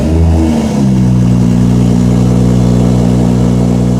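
A BMW F30 engine cranks and fires at close range, catching after a brief starter whine and settling into a loud, steady idle with a deep low rumble.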